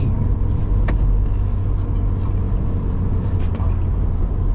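A 1999 Saab 9-3 Viggen drives hard, its engine a loud, steady, close-up roar with deep low rumble that carries through the whole stretch without a clear pause.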